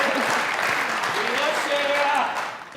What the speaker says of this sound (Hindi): शेरा के लिए तालियां।